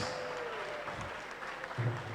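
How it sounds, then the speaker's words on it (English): A dense wash of clapping from a lecture audience, steady and somewhat distant, sustained throughout without breaks. "Round of applause."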